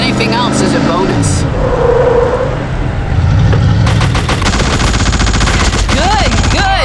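Rapid gunfire bursts ring out while a vehicle drives along in the horror action game The Suffering: Ties That Bind, with loud engine noise underneath and voices talking over the continuous, dense combat din.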